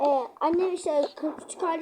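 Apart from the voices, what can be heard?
No distinct noise like a dog, phone or traffic.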